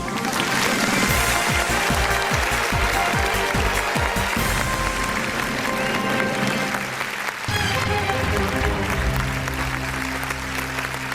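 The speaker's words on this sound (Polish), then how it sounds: "brawa" A studio audience on a quiz show bursts into sustained, dense applause that fills the room evenly and stays loud throughout, with music tones sounding underneath.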